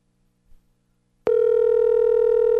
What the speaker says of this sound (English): I'm letting the phone ring.